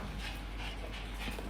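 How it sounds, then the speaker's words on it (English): Several dogs eager for syrup pant in quick rhythmic breaths with soft whimpers mixed in, close but faint, with no one speaking. "And lastly, we have my dogs who all want some honey."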